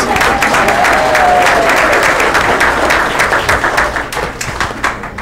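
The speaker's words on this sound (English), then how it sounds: "that gets a little round of applause" Applause from the audience at a township committee meeting, a steady round of clapping from a roomful of people that fades toward the end, with no talking over it.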